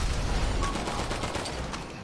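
Gunfire in GTA, a dense rapid burst of shots that fades slightly toward the end, with no talk over it.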